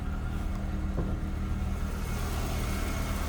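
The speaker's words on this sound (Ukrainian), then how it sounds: "хочу вам показати, як працює двигун" A 2006 VW Golf V with a 1.6 MPI engine runs at a steady idle, a continuous low mechanical hum heard close and alone.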